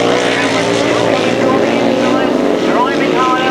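1000cc sidecar grasstrack racing engines roar at full throttle during a heat, a loud continuous snarling drone with rising and falling pitch as the outfits pass, under excited commentary.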